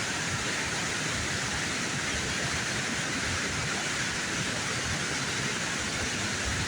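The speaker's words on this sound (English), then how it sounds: "that is the where the water runs around that big rock right there." Water runs over a dam and around a big rock in a river, a steady, loud rushing wash that holds unbroken from start to end with no voices.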